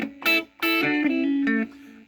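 A short fun blues riff on electric guitar, two quick picked bursts followed by a sustained bent note and a final stab, played alone and up close.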